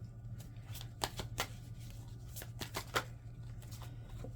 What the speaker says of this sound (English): So I'm going to pull some of my own cards.